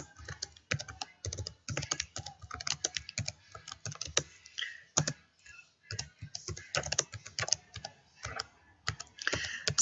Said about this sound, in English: this is just where we type in our actual email or letter.